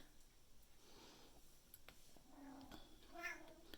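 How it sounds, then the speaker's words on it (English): Cats squabble nearby with short meows and a rising yowl, faint and close, over a low background hiss. "the kitties are squabbling. Can you hear them?"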